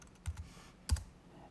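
Faint computer keyboard typing of a bot command, a few soft separate key clicks in two small bursts, close by and quiet, with no talking.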